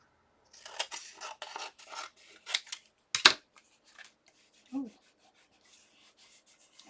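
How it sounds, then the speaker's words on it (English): Scissors snip through craft material for a Christmas gingerbread project, several quick cuts in a short run followed by a louder snap, with a brief exclamation from a voice near the end. "Okay, let me cut this."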